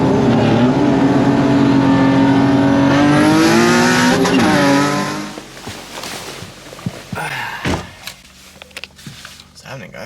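A boosted turbocharged Nissan 370Z being raced, its engine loud and close as it revs steadily upward through a gear before backing off, leaving quieter clunks and interior noises afterward.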